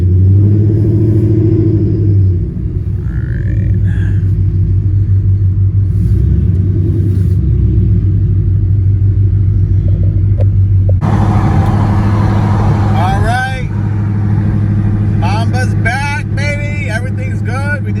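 A car with a rebuilt, beefed-up transmission and new torque converter drives along, a loud steady engine drone from inside the cabin with rising pitch sweeps as it revs and shifts, under almost continuous talk.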